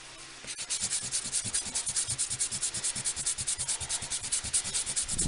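An eraser rubs back and forth over a mixed-media album cover in quick, steady strokes, a close, dry scrubbing rasp repeating roughly eight times a second with no one speaking.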